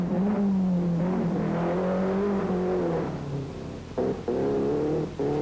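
A hillclimb race car at Shelsey Walsh holds a droning, rising engine note, then drops off sharply as it brakes and shifts down before picking up again, loud and close with no talking.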